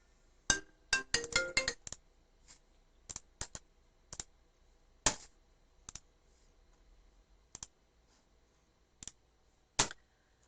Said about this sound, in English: I had a phone call.